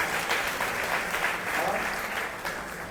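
An audience at an evening Bhagavata-saptaha gathering gives steady applause to Kunjeshwari Didi, a dense, even wash of clapping filling three seconds with no pause.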